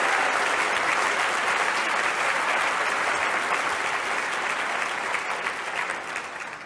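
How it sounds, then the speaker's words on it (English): A large audience applauds high school students at a Q&A event, a steady, dense roar of clapping that holds loud and even before easing slightly at the end. "Can we have a round of applause for all the high school students that are in here?"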